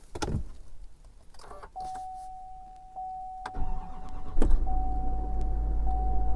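A 2020 Chevy Silverado 3500 diesel truck starting in cold weather: a short crank and catch, then a steady diesel idle with a faint electronic chime tone, close and fairly loud.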